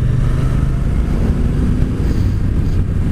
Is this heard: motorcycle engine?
yes